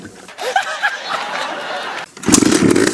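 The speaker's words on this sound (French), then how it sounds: "Mon Scrambler MTX 125 est doté d'un moteur 2 temps. J'adore le bruit du 2 temps." A two-stroke Scrambler MTX 125 motorcycle engine catches and starts after some laughter, then settles into a loud, rough, close idle that lasts to the end.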